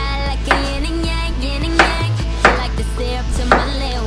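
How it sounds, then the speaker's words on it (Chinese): A knife strikes a cutting board four times at uneven intervals while potatoes, tomatoes and carrots are being prepared, each chop a sharp, close thud over steady background music. "切菜"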